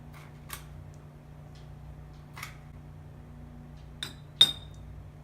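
Two teaspoons of sugar spooned into a coffee cup while making Cuban coffee, giving a few sparse, soft clinks of a spoon against the cup over a quiet room hum, the last tap the sharpest.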